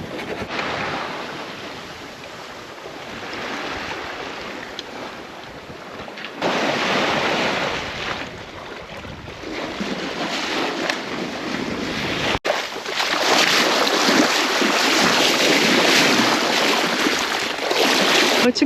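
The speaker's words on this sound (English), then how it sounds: "There's a lot of wind." Wind and waves rushing around a solo sailboat making about six knots on the open Pacific, a loud broadband roar with surging swells and gusts buffeting the microphone, steady and rising toward the end.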